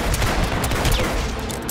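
Gunfire in the video game Hitman, a dense continuous burst of rapid shots lasting the whole moment, loud and close with no pauses.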